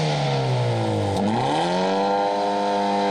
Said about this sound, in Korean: 팝콘 같은 엔진 음소리입니다.